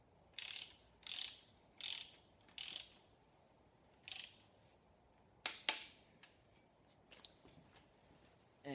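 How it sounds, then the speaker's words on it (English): A torque wrench ratchets bolts down on a 6.0 Powerstroke engine short block, with five quick bursts of rapid close clicking followed by scattered sharp metallic taps and clicks in a quiet workshop. "first we'll go ahead and torque these up to 33 foot-pounds, and then I like to do them a little evenly"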